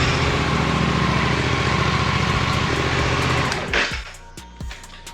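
A 2024 Suzuki GSX-8S motorcycle engine idles with a steady, close, pulsing rumble, then cuts out near the end, leaving a few faint clicks.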